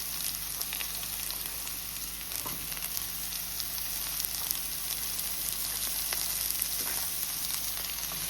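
Vegetables for veg pulav, among them cauliflower, carrot and flat beans, sizzle and fry in a pan with a steady crackling hiss, close and even throughout, with occasional faint stirring clicks and no talking.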